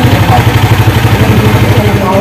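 A motorcycle engine idles close by with a steady, loud, rhythmic low putter, while people talk over it.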